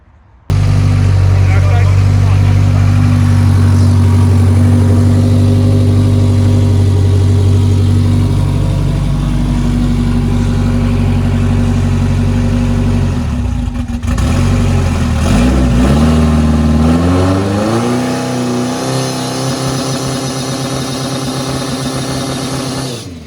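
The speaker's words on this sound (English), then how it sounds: "so that was just a quick test hit of the nitrous" A Mitsubishi Eclipse GSX AWD engine on a nitrous setup idles rough, then revs up hard around the middle during a quick nitrous test hit, holding a high roar before easing back down, close by.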